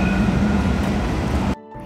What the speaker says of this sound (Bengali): আর এটা হলো দুবাই ট্রাম।